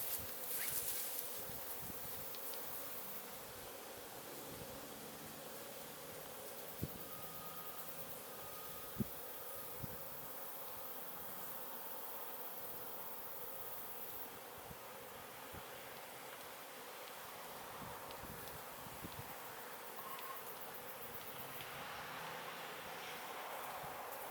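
Honeybees swarm around a beehive frame being shaken, a continuous dense buzzing hum close by and fairly even in level, with a few faint knocks and handling sounds scattered through it.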